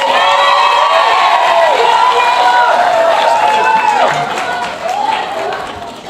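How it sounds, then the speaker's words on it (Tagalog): A large crowd of Filipinos in Japan claps and cheers loudly at an event with the Philippine president, a dense, sustained roar that fades slightly near the end, with voices shouting over it. "malakas ang palakpak nila"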